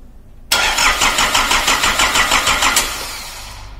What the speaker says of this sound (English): So this is how you perform a starter motor ampere draw test.